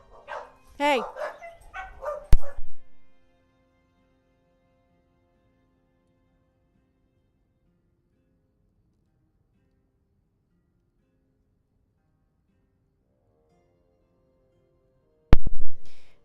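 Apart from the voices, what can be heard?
dogs barking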